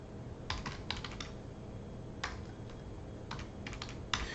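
Keys on a computer keyboard clatter in short bursts of quick taps separated by pauses, close and moderately soft over a faint background hiss.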